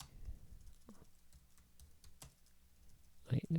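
Soft, sparse keystrokes tap on a computer keyboard, quiet and close, with a voice briefly entering at the end.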